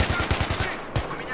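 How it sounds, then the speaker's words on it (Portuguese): Rapid gunfire from Battlefield 3, a multiplayer shooter, with about eight quick evenly spaced shots in a burst, a short pause, then one more loud shot, all close and punchy. "Acertei tiro nele."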